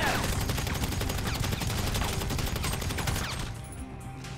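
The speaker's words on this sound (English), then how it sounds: "Well, here's someone shooting." Rapid, dense gunfire from the Grand Theft Auto V video game on PS5 rattles out in a sustained burst of loud shots, then thins out near the end.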